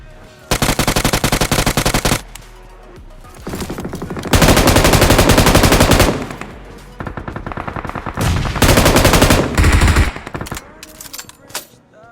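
Automatic gunfire in BGMI (Battlegrounds Mobile India), a mobile battle royale game, comes in several loud sustained bursts of rapid shots separated by short pauses, with no talking.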